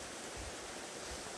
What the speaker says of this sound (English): Nice little waterfalls hidden away.